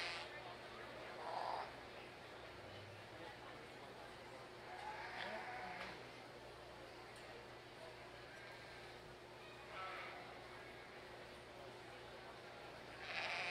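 Meat goats at a junior market show arena, a few faint bleats rising now and then over a steady background of crowd murmur and hall noise.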